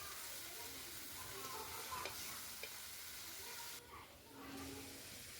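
Onions, kundoli and potato frying in a pan with salt and turmeric make a faint, continuous sizzle with a few light stirring clicks, briefly dipping toward the end.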